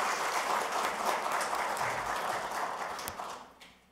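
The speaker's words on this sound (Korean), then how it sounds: "큰 박수 부탁드립니다." Audience applause at a policy forum welcoming a speaker, steady clapping from a modest crowd that holds for a few seconds and then fades out near the end.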